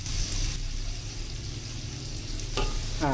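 Chili paste sautés in a pan with a low, steady sizzle under a background hum, with a couple of brief stirring or liquid sounds near the end.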